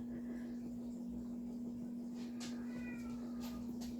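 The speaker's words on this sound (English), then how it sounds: "My cat, sorry." A pet cat meows in a home where someone is working on a sponge-blended flesh layer. The meows are faint and drawn out over a steady electrical hum, with no talking.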